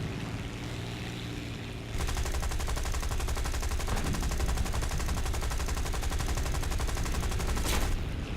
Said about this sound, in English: Getting shot at. Taking a lot of damage.